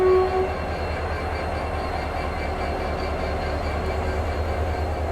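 A WDP 4D diesel locomotive from Bhagat Ki Kothi shed shunting coaches, its steady engine rumble droning on throughout, with a brief higher tone near the start.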